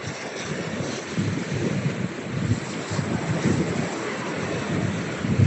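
Ocean waves wash ashore in a continuous soft rush with gentle surges, mixed with wind buffeting the microphone and no voices.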